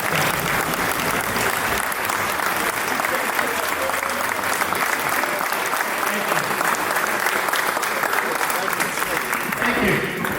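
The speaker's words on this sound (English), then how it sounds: "let us all give you a round of applause" Audience at a high school basketball banquet gives the varsity players and coach a long round of loud, dense applause lasting about ten seconds, with some voices mixed in.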